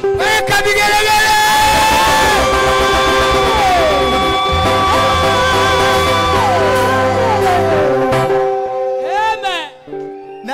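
Sustained vigelegele ululation sweeps through a church congregation, sliding high trills from many voices over crowd shouting, loud throughout before thinning out and dropping briefly toward the end, then a few final warbling calls.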